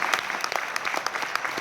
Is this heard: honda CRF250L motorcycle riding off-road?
no